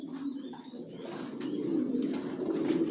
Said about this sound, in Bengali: কোয়ালিটি সম্পন্ন কবুতর পালি, কোয়ালিটি সম্পন্ন বাচ্চা রেডি করি।